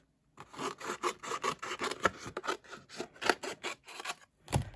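A big piece of card being trimmed down, with a run of rhythmic scraping, rasping cuts in quick succession, fairly close and quiet, ending in a final separate cut.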